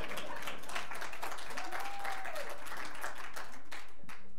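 Audience clapping at a community forum on gun violence, a moderate crowd with individual claps clearly audible throughout the four seconds and a brief whistle partway through.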